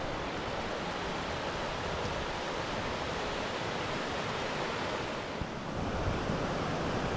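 Roaring River Falls in Kings Canyon gives a steady, dense roar of rushing water, constant and loud throughout with faint wind buffeting and no voices.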